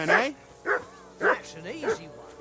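A dog barks in the medieval world of Kingdom Come: Deliverance 2, four or five sharp, close barks in an uneven rhythm, interleaved with a man's speech.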